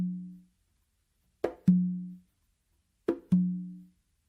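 Conga drums play alone, close and dry. Short repeating figures pair a light slap or ghost touch with a ringing open tone on the tumba, and the booming low notes decay between spaced phrases.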